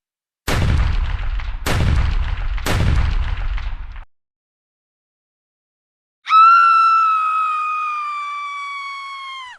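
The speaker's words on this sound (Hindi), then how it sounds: "इंस्पेक्टर ने उस पर एक के बाद एक कई फायर किए" Three heavy gunshots ring out one after another, loud and close with booming tails, followed by silence and then a long sustained tonal effect, as an inspector fires repeatedly in a dramatized story.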